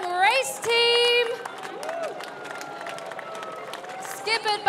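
A crowd at a sailors' parade in Cardiff applauds as a race team walks through, the clapping and cheering sitting under a loud announcer's voice over a PA, with sustained bursts near the start and end.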